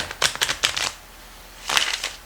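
A deck of playing cards is shuffled in quick riffles: a run of four or five crisp, flapping bursts, a short pause, then one more longer riffle, close and clear.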